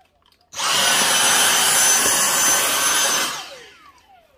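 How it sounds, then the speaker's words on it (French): A Dyson vacuum cleaner switches on and runs loud and close with a steady, broadband whine for about three seconds, then winds down and fades out. "ça c'est un aspirateur Dyson"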